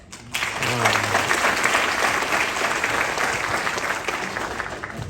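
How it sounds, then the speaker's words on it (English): At a remembrance concert, a crowd breaks into applause to welcome a member of parliament to the stage, the clapping starting abruptly after a brief quiet moment and holding steady and full to the end. "Please give a big round of applause"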